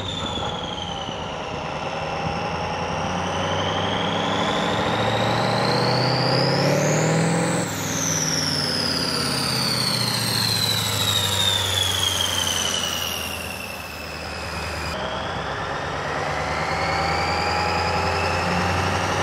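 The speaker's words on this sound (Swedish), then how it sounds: "Motorn är ju fantastisk sång att lyssna på, den visslar och skjuter som bara den." A loud tractor engine runs with rising and falling whistling tones that sweep up and down as it revs, roaring steadily throughout.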